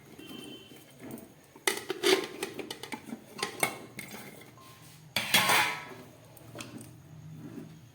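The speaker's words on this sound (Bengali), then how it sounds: "প্রেশার কুকারের মধ্যে এঁচোড় আর আলুটা দিয়ে দিচ্ছি" Jackfruit and potato pieces tumble into a metal pressure cooker with scattered clinks and clatters, two louder bursts of knocking close by.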